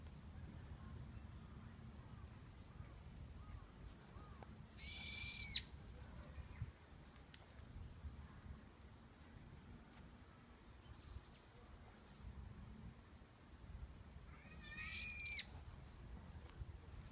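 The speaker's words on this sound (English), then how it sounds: "these are the screaming birds I talk about." Birds that look like small finches give two brief, shrill, screaming calls outdoors in Japan, one near the start and one near the end, faint over a low background hum.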